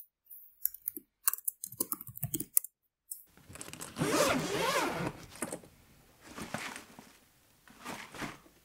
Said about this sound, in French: Dans cet audio, j'ai un zip de duvet, l'entrée dans le duvet et la fermeture.